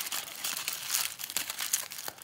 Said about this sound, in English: I'm just going to crumple mine up